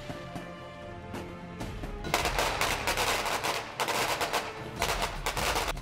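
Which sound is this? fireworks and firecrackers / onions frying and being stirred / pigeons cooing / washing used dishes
fireworks and firecrackers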